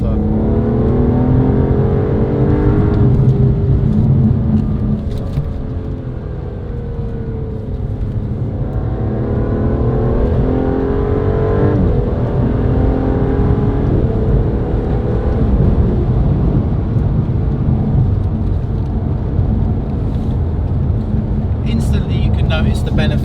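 Aston Martin 5.2-litre twin-turbo engine accelerating hard along a road with an 8-speed automatic, loud and close, its rising drone climbing in pitch through several gear changes and running steadily throughout.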